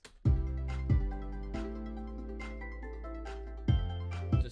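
An electronic drum pattern for a happy, summery song: kick, shaker, snare and a double clap, with booming kicks and sharp hits repeating over a sustained tonal bed, no talk.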